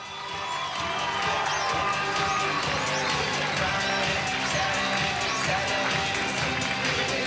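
Indoor audience applauds fashion models at an event, a steady, loud crowd clap with some cheering that swells in quickly and holds, mixed with general crowd noise.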